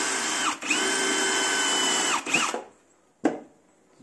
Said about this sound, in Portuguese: A gente vai até parafusar o MDF aí para a gente testar.